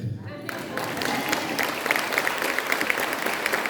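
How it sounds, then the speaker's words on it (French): A congregation claps for the Lord during a church teaching, the applause rising after a brief quieter start and continuing as a moderate, steady patter of hands with voices underneath. "on acclame le Seigneur."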